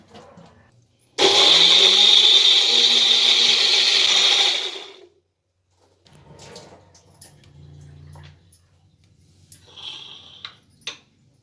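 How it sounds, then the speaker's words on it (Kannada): A kitchen mixer grinder whirs loudly for about four seconds as it grinds tomato saaru masala, then stops. Quieter clatter and handling noises follow. "ಈಗ ನಾನು ರುಬ್ಕೊಳ್ತೀನಿ"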